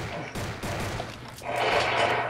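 Rapid bursts of video game gunfire ring out while shooting zombies in Roblox COD Zombies, starting sparse and swelling into denser, louder continuous fire toward the end.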